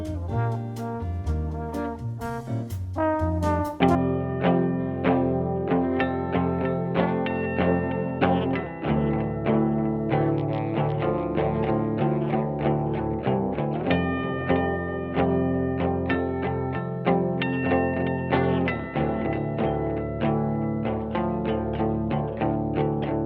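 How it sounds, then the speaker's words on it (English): Heavy shoegaze verse guitar built in Ableton, thick with distortion, chorus and echo, its sustained chords washing continuously at a loud, steady level for over twenty seconds after a brief brighter opening, with no voices. "we're going to be getting into the guitar of the verse"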